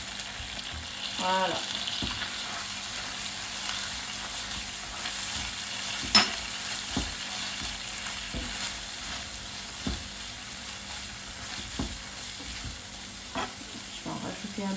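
Pasta cooking water poured into a hot frying pan of pasta, giving a steady close sizzle with scraping stir strokes and occasional knocks of the utensil, while someone speaks briefly.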